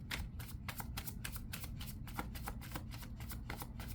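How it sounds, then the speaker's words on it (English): Tarot cards being shuffled in quick riffling bursts, a steady crisp flutter repeating close by, fairly quiet with no talking. "I'm definitely gonna shuffle them again"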